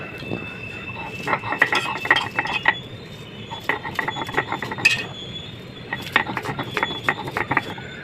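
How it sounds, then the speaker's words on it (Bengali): Dried chillies ground by hand on a flat shil-pata grinding stone, irregular scraping and clattering strokes of stone against stone, close and fairly loud, with short pauses between bursts. "এখন শুকনো মরিচগুলো ভালো করে বেটে নিব"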